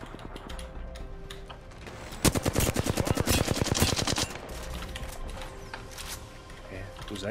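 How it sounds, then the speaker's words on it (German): A rapid burst of automatic gunfire in the video game Apex Legends, a dense rattling volley lasting about two seconds, with quieter game sounds and players' voices before and after. "Ich höre Schüsse."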